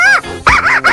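A dog barks loudly and close by, three sharp yelping barks with tonal whine in quick succession.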